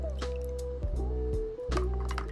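A 1975 Zippo lighter is lifted out of vinegar and moved into soapy water to soak, giving close, soft liquid squishes and drips over a low background hum.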